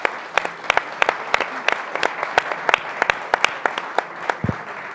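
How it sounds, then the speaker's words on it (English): Audience applause at a policy event, a modest room of people clapping with distinct, sharp individual claps standing out over a steady patter. "So if you could all join me in a round of applause"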